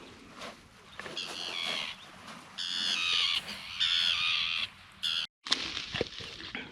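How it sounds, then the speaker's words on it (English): Crows caw repeatedly outdoors on a lakeside shore while sailing in Nova Scotia's Bras d'Or Lakes, a run of harsh calls at moderate distance against faint background noise. "Hear those birdies, Moozy?"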